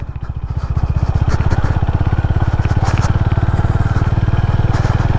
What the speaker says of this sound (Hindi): बाइक चल रही है 30-35 पे